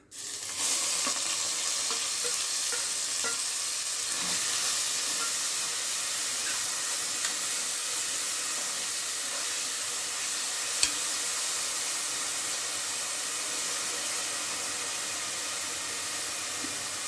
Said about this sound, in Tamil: இது வந்து நல்லா கோல்டன் கலரில் நல்லா ஃப்ரை பண்ணுவோம்